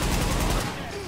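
A light machine gun fires a dense, rapid burst in a combat firefight in The Division, loud and close, then fades under background noise.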